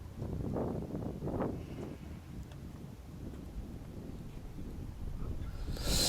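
Wind gusts across an outdoor tennis court during a fourth-series tournament match, a steady rumbling buffet on the microphone with a few stronger surges and a harder gust at the end.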